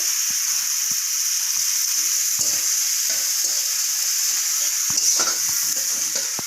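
Fish fries in a pan for a Bengali curry, a loud, continuous close sizzle with small pops and crackles throughout and no talking.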